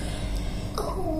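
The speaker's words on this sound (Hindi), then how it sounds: "मुझे तो खांसी नहीं ठीक हो रही है" A woman gives a single short cough at the end of a brief, quiet indoor stretch.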